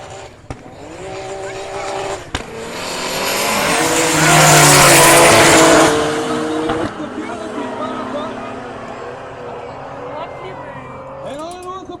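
Rear-wheel-drive race cars, a Porsche 911 RS2 and a BMW E30 Turbo, in a class 3 final: loud engines rev and climb in pitch, swelling to a roaring peak as they run close, then easing off with a final burst.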